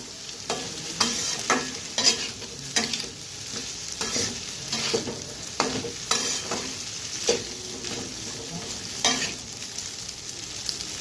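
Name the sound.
pasta being stirred and fried in a pan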